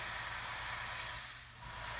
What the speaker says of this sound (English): I'm just going to very lightly spray,